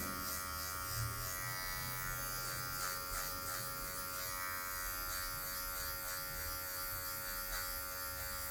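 Electric hair clipper with the lever fully open buzzing steadily and close while cutting a fade, a continuous even hum with slight rhythmic pulsing from short C-shaped strokes.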